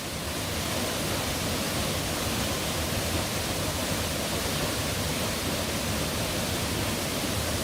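An outdoor waterfall used for baptisms roars as a constant, dense broadband rush, steady and close with no break and no voices.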